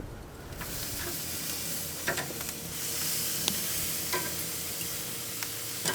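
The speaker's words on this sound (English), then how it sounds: "we're just going to cook these up like you would a ribeye or strip steak" Beef hanger steaks sizzle on a hot grill, a continuous close hiss with a few sharp pops and crackles.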